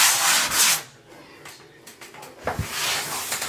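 Hand sanding over dried spackle patches on drywall: bursts of dry, scratchy rubbing at close range, one near the start and another toward the end, with a quieter lull between them.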